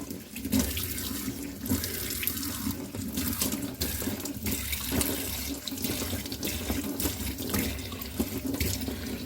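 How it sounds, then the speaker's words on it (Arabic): Water runs steadily from a bathroom faucet while it is rinsed, a continuous close splashing rush with small fluctuations as hands move through the stream, no voices. "بصوا هاخدكم على حنفيات الحمام اهي. بصوا هنشطفها مع بعض اهي."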